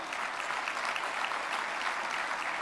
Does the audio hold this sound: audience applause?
yes